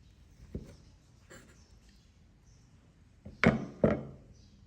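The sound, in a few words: cutting pieces of homemade tempeh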